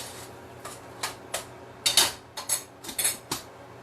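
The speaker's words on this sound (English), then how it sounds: "Let me stir my hamburger a little bit here." Hamburger meat is stirred in a pan with a utensil, making a series of sharp scraping and clinking strokes in an irregular rhythm. The strokes come close and fairly loud over a quiet background sizzle.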